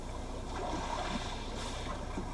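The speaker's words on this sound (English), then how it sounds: "calm sea waves." Calm sea waves play as a nature ambient soundscape through the audio system of a 2021 Genesis G80 3.5T sedan, a soft, low, continuous wash of water with gentle swells.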